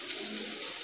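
Water pours into a bowl of ground spices as a brief, steady rushing splash that fills the whole moment.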